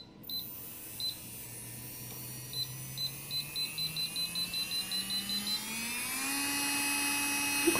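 An electric nail drill file spinning in reverse whines with a rising pitch as it speeds up, accompanied by a series of short, regular electronic beeps from its control unit before the tone settles into a steady high hum.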